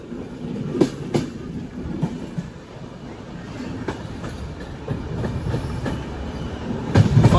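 Riding in a general coach of the Tirumala Express from Visakhapatnam toward Kadapa near Duvvada, wheels beat out a steady clickety-clack over rail joints, with sharp rhythmic knocks and rumbling underneath.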